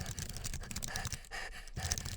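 A voice imitates heavy panting breathing, a few quick rough huffs in a short burst, close and fairly quiet, with no words spoken.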